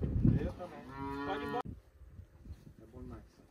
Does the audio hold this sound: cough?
no